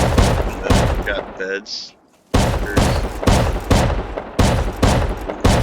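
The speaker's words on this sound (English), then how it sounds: "What sick fuck puts shotgun traps all over these walls?" Repeated shotgun blasts from wall-mounted traps firing buckshot in a video game base, loud booming volleys in rapid succession with a brief lull midway, a voice speaking briefly between shots.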